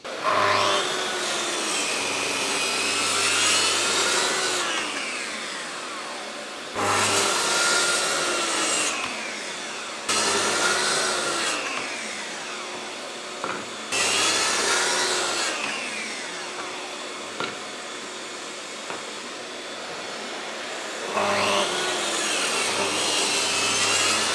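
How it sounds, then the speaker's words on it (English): A track saw rips through wooden dividers for a hand tool cabinet carcass in a workshop, several loud, sustained cuts of a few seconds each with brief pauses between them, no talking. "And just run these on through with the track saw."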